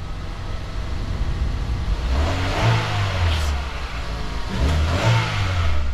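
A Subaru WRX with an aftermarket blow-off valve and stock intake, engine cold, revs up twice in a row, each rise in engine note followed by a brief airy release, loud and close with no talking.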